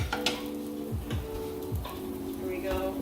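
Pasta being stirred in a pot on the stove, with soft scraping and knocking strokes at a steady rhythm over a faint simmering hiss, close and moderately loud.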